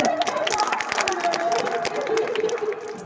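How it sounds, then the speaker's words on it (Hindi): An audience at an Independence Day play in India claps, a loose patter of many hands that runs steadily for a few seconds amid crowd noise. "एक बार जोरदार ताली।"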